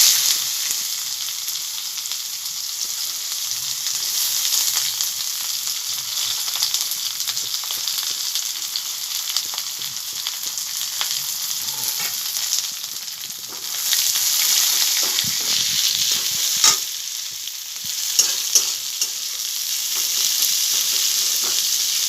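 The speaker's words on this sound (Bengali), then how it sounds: "এবার কুচিয়ে রাখা পেঁয়াজগুলোকে দিয়ে দেবো" Chopped onions frying in fish oil, from vetki fish, a loud steady hiss and crackle that intensifies partway through, with a few stirring knocks near the end and no speech.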